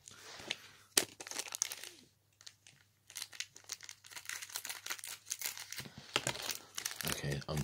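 Pokemon card packet being torn open, its foil wrapper crinkling and crackling up close in bursts, with a sharp tear early on and quiet gaps between the rustles.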